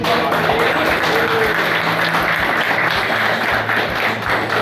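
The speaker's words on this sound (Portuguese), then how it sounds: "palmas pro pessoal do" A crowd at a Yu-Gi-Oh! regional tournament in a game store claps for the players, dense and continuous applause that stays loud throughout, with a faint steady hum in the background.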